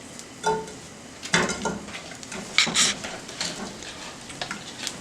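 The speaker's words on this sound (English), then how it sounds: "We'll go ahead and get the shrimp in there." Raw shrimp go into a hot pan for shrimp tacos, giving a few distinct clatters and scraping knocks against the metal over a low, steady sizzle, close and moderately loud with no talking.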